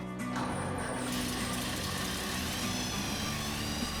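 A 1922 Packard Series 116 Phaeton engine runs with the throttle held open, a steady mechanical clatter and whirring hum with a brief higher whine at the start, close and continuous, no talking.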